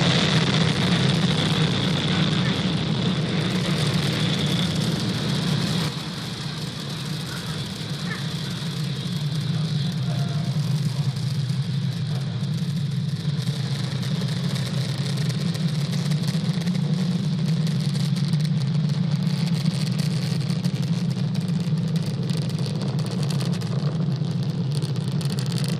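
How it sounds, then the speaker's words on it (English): A Falcon 9 rocket's engines at liftoff from Cape Canaveral Space Force Station produce a continuous, heavy, low roar that holds steady for the whole stretch and dips only briefly once. "Falcon 9 has cleared the tower, lifted off from Cape Canaveral Space Force Station"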